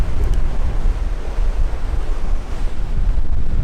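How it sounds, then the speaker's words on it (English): Strong wind buffets the microphone on a New Zealand coast, a loud continuous rumble with surf-like roar throughout, no voices. "The wind's coming from that way"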